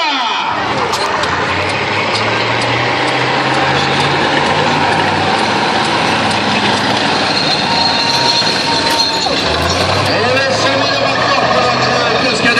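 A monster truck at a stunt show rumbles heavily and grinds across cars, loud and close, with a steady roar under an announcer talking in French to the crowd.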